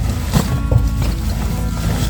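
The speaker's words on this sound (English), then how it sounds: "Tractor outside." A tractor's steady low engine rumble drones continuously outdoors at a country inn, with some wind noise mixed in and no clear speech.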